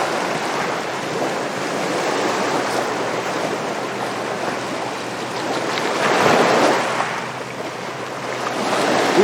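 Ocean waves wash against an island shore in the video game Empire, a broad continuous surf with wind, swelling louder toward the end, no voices.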